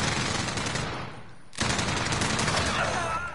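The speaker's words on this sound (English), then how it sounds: "Alright, machine gun, X-16." Rapid machine gun fire in Call of Duty: Modern Warfare, a loud continuous burst that cuts out briefly and then resumes with sustained fast shots close by.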